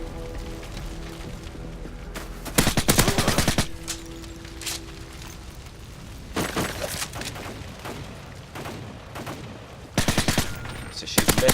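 Modern Warfare 3 gameplay with bursts of rapid automatic gunfire, several loud volleys separated by quieter stretches of background battle noise.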